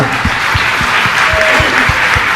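A hall audience at a Jain religious discourse breaks into steady, dense clapping that fills the whole moment with an even roar of hands and a few deeper thumps.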